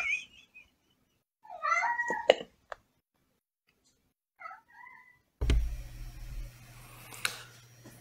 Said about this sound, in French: Faut donner à manger au chat.